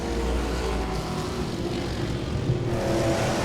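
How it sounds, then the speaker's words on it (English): Modified race cars roar around Langley Speedway in a pack, a loud, continuous engine drone with a rising whine toward the end, heard without talk. "There's a big pack of cars ahead of Belluzzo."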